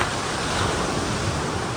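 Sea waves wash onto the beach at Malvan in a constant, close roar of surf with wind noise mixed in, and no voices are heard.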